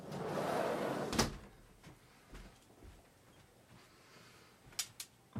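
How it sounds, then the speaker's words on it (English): A door being closed in a home, a muffled rustle followed by a sharp close knock, then a few soft bumps and two quick clicks near the end, with no speech. "I'm going to close the door because she's being really noisy."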